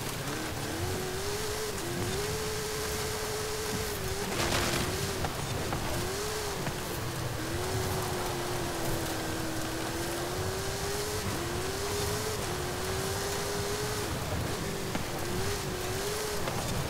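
A 1970 Dodge Coronet Super Bee driving off-road in Forza Horizon 5, its engine droning steadily with repeated rising and falling revs as the car shifts and accelerates, loud and continuous throughout.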